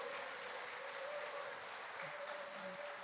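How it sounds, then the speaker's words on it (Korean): A church audience applauds a praise team, a dense, steady wash of clapping from a crowd that lasts the whole moment without a break. "목민교회 찬양단에게 뜨거운 박수로 우리 격려하도록 하겠습니다."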